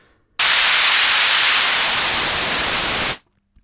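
Hissing synthesizer noise from an FXpansion Strobe 2 with its low end rolled off by the tone knob, a bright steady burst lasting close to three seconds that cuts off abruptly, loud and alone.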